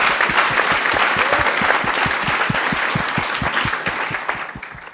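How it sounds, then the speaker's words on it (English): A post-show Q&A audience gives a round of applause, a crowd of hands clapping densely and steadily for about five seconds before gradually thinning out, with no voices over it. "So we should give them another round of applause for that."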